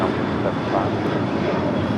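A Boeing 737 MAX 8 airliner at LAX gives off a continuous broad jet-engine roar at moderate distance, steady and unbroken across the short stretch.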